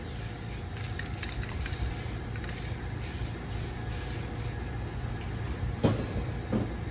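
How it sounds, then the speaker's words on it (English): Continuous hissing spray from an aerosol can of black paint, with brief pauses and a couple of sharp knocks near the end. "I'm gonna spray some black paint on it"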